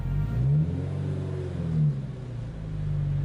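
A Subaru BRZ engine revving through a loud exhaust, a deep droning rumble that swells and dips with each blip of the throttle, close and continuous throughout.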